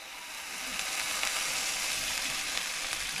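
Water poured into a pan of frying pork, garlic and onion sets off a loud, steady broadband sizzle that swells in the first half-second and then holds.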